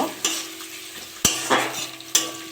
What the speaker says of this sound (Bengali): পেঁয়াজ আর কাঁচা লঙ্কাটা আমি এবার গাজরটা দিয়ে দেবো দিয়ে ভালো করে ভেজে নেব